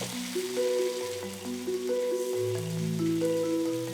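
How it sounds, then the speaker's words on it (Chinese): Garlic and diced tomatoes sizzle in hot oil in a wok, a soft, continuous crackling fry with light stirring, fairly quiet and steady, with faint tonal music playing over it. "起油锅，爆香蒜末，下西红柿丁炒出汁水"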